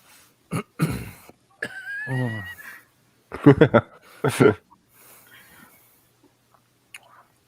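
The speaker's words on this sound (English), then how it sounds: "see, I was already clearing my throat by this time" A few short throat clearings and coughs after eating an extremely hot Paqui One Chip Challenge chip, close and fairly loud, separated by brief pauses with some quiet sounds in between.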